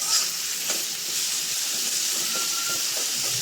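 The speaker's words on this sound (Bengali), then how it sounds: "তো ভাজা ভাজা করে নিন।" Meat fries with onions in oil, making a steady, close hissing sizzle with a few faint clicks and stirring sounds throughout.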